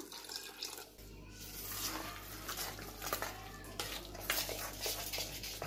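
Water runs and splashes steadily into a bowl of idli batter, with soft stirring and mixing sounds against a low background hum.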